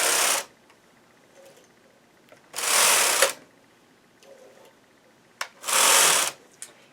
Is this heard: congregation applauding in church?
no